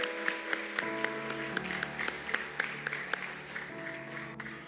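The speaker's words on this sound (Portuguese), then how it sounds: "Você pode aplaudir o Senhor Jesus?" Church congregation applauding at a youth and adolescent welcome service, a steady wash of clapping with sharper individual claps popping out above it, sustained throughout without speech.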